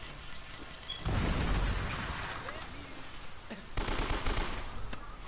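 Rapid bursts of gunfire in Uncharted: Drake's Fortune, close and loud, with heavy impacts and rattling automatic shots, including a micro SMG, layered over dense battle noise.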